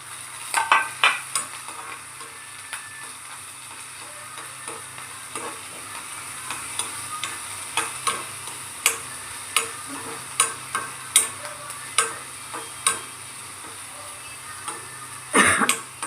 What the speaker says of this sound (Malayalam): ഉള്ളി ഇഞ്ചി പച്ചമുളക് കറിവേപ്പില എല്ലാം കൊണ്ട് താളിച്ചിട്ട്